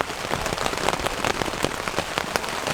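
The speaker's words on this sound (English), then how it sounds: "it started raining really hard and hasn't stopped since." Heavy rain drums steadily on a camping tent during summer, a dense close patter of countless drops with occasional louder individual hits, filling the space with no voices.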